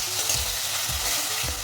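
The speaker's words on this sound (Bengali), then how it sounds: "পেঁয়াজ রসুনটা খুব ভালো করে ভেজে নেব।" Onion and garlic paste fries in spiced oil with a constant close sizzle, broken by three regular scraping stirs of a spoon against the pan.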